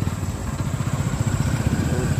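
A motorcycle ridden on a badly broken road chugs close and loud, its engine pulsing in a rough, uneven rhythm with no voices.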